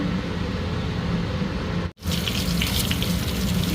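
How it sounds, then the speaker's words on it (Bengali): Eggplant frying in a pan gives a steady, close hiss and sizzle of oil that runs continuously, broken by one brief silent gap before the sizzle resumes. "বেগুন ফ্রাই হচ্ছে"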